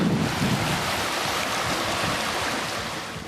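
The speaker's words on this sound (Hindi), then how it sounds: "कोसी नदी की लहर का ये रूप देखकर किनारे के टीले सरेंडर करने लगे" The flooding Kosi river surging in loud, steady, churning waves, with a broad rushing roar and gusts of wind buffeting the microphone.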